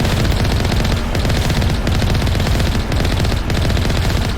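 Turrets in Mass Effect firing continuous rapid gunfire, a dense, loud, unbroken barrage with brief dips, close and alone without talk.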